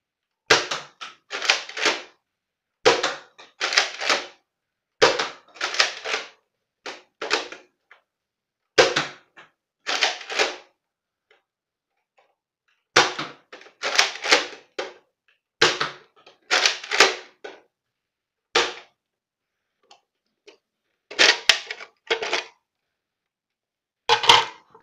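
Blaster shots fired for accuracy come in quick clusters of sharp snapping cracks, grouped bursts separated by short silent pauses, close and crisp with no talking.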